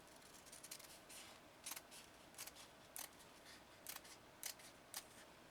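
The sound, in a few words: scissors cutting stiff material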